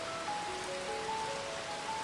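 Gentle rain falling as a steady, even hiss of fine drops with no distinct impacts, soft and continuous, alone with no voices.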